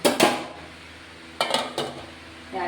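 A fried paratha is lifted into a container, giving a few sharp metallic clinks and scrapes of utensil against cookware, loud and close, separated by quiet pauses.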